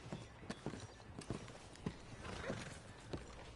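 Video game horses' hooves clop in a loose, uneven rhythm over quiet background, with a brief whinny midway; faint and fairly distant.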